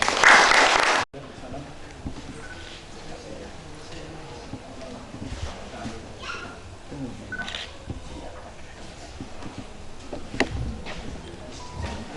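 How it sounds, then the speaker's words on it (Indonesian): A crowd applauds during a church wedding ceremony. A loud burst opens and cuts off abruptly, then lighter scattered clapping continues beneath talking voices. "Boleh kita tepuk tangan dulu?"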